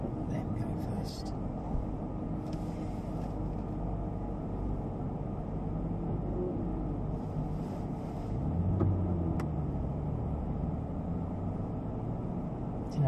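Aston Martin V8 Vantage on a fast lap at Rockingham circuit, a steady engine and road drone running throughout with a swell of louder mechanical noise near the end, heard from inside the car.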